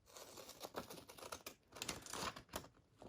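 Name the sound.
serrated scissors cutting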